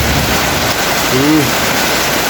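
Steady rain hisses in a constant broadband wash, with a brief faint voice rising briefly in the middle.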